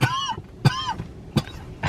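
A person coughing a few times in quick succession, sharp close bursts with rough throaty tails, separated by brief pauses.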